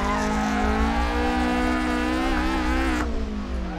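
A drifting car in Assetto Corsa, its engine held at high, sustained revs with a steady harmonic whine and a dip and drop near the end, loud and close.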